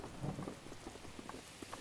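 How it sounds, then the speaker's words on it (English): Rain with thunder in The Legend of Zelda: Breath of the Wild, a faint, soft patter with low rumbling underneath, steady and quiet across the brief moment. "Oh, here comes the rain."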